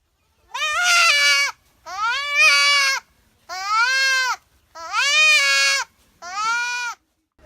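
Goats bleat in a remote village, five loud, drawn-out calls in a row, each about a second long with short silent gaps between them and no talk.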